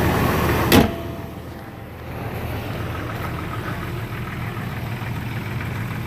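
A 2000 Jeep Grand Cherokee Laredo with the 4.0 engine idles steadily and close by with a low, even rumble, after a brief louder burst near the start.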